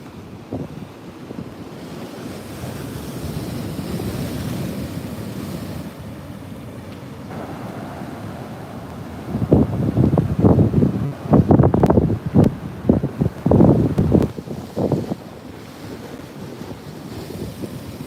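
Ocean waves roll and break near the shore under gusty wind noise, with a run of louder, rougher crashing bursts later on.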